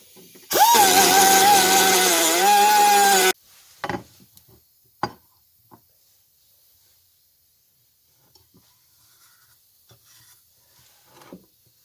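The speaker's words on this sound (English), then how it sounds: "I'll just have to grind that smooth and we'll finish up the top" An angle grinder grinds spot welds smooth on a metal ammo can being made into a wood stove: a loud, whining burst of about three seconds, then near-quiet with a few scattered clicks and knocks.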